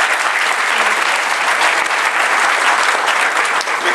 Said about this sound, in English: We could hold the applause in between.